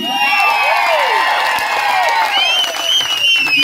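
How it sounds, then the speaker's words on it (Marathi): A large crowd at an outdoor political rally claps and cheers loudly and continuously, with whistles and shouted voices rising over the dense applause. "एकदा हात वरती करून भैयासाठी टाळी."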